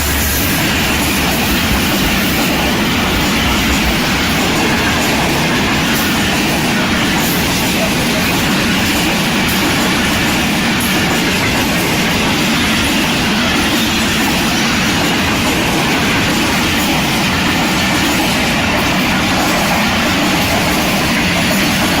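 An oncoming Millat Express rushes past a first-class train near Faisalabad, a loud, continuous roar of wheels and wind with steady rattling that lasts the whole passage.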